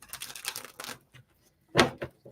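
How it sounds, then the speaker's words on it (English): A deck of tarot cards being shuffled close up: a burst of riffling clicks, a pause with a couple of taps, then one sharp bridging flutter and a final soft tap, with no speech. "It's going to be the last shuffle here."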